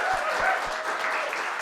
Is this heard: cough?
no